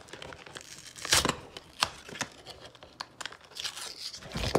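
A Pokemon Scarlet and Violet Paldea Evolved card pack has its foil top ripped open, making crisp crinkling and tearing bursts close to the microphone in a quiet room.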